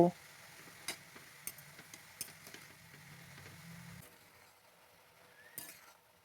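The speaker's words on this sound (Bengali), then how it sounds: "স্কোয়াশটাকে কিছুক্ষণ ভেজে নেব।" Squash fries quietly in a pan with salt and turmeric, a soft sizzle broken by several sharp clinks and scrapes of a utensil stirring, then a brief louder scrape near the end.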